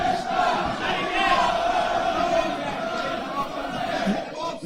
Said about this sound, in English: The crowd in full voice already for Callum Blockley